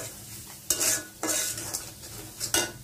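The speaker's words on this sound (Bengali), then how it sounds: "এখন এইগুলারে ভালো করে নাড়াচাড়া করতে হবে, সুন্দর করে কষাইতে হবে।" Chicken curry spices being stirred and fried down in a pan: three sharp scraping sweeps of a spoon against the pan, close and moderately loud, with a low sizzle between strokes and no voices.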